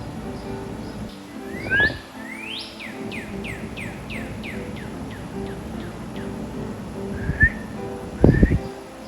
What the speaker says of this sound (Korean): 뒷마당에서 한 이름 모를 아름다운 새가 깨꼬리 같은 목소리로 날 반겨주었다.